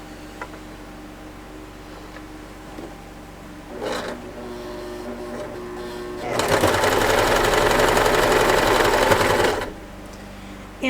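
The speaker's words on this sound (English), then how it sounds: "then we're going to sew that together" A sewing machine stitches quilt blocks together for a baby quilt, a steady loud mechanical whir running for about three seconds after quieter handling sounds and a brief earlier burst, then stopping.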